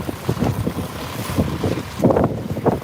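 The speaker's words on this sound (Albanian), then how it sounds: "Problemi është sepse ka shumë erë." Strong wind buffets a microphone outdoors in snow, heavy low rumbling gusts thumping in uneven bursts, loud and close.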